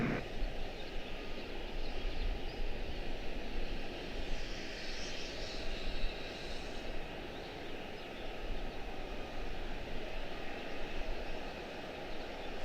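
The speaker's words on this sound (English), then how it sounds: "Thought I heard an aircraft." A steady aircraft engine drone hums at Charlotte-Douglas International Airport, a broad continuous rumble at moderate distance that stays even throughout with no talk.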